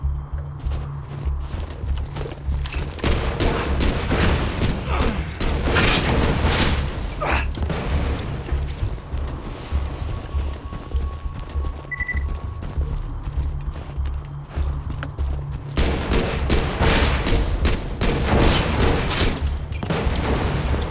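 Shotgun fire in the video game Borderlands 2 comes as booming blasts in bursts, with game music and mechanical clatter running underneath.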